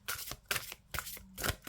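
A deck of tarot cards is shuffled up close in a few quick riffling bursts, crisp papery flutters separated by short pauses, with no talking.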